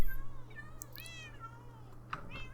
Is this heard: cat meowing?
yes